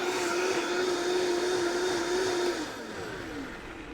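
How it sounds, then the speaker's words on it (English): A blender whirs at high speed through a red chile mixture, a steady loud motor drone with a sustained pitch that shifts and eases off near the end. "I'm going to put it on an even higher speed. Depending on the kind of blender you have, this could take anywhere from 45 seconds to 2 or 3 minutes."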